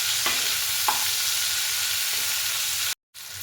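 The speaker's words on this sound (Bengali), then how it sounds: "ভেজে নিচ্ছি" Cauliflower fries in oil with salt and turmeric, a dense steady sizzle close up, with a couple of soft stirring scrapes and a brief cut to silence near the end.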